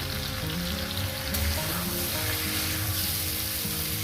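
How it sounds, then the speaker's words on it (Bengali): Red lentils, masoor dal, frying in a pan alongside vegetables before water is added, producing a dense, continuous sizzle nearby with faint stirring scrapes and no talking. "এবার মিনিমাম এক মিনিট একটু ভেজে নেবো তারপর জল দেবো"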